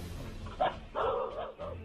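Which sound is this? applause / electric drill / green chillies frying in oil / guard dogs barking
guard dogs barking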